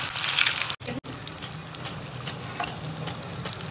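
Chili cut bajji, sliced peppers in batter, frying in hot oil at home, a dense continuous sizzle with brief breaks as the food is stirred.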